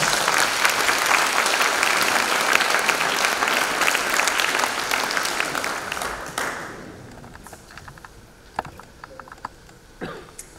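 An audience at an awards evening applauds warmly, a thick wash of clapping for about six seconds that fades into a few scattered claps and small room noises.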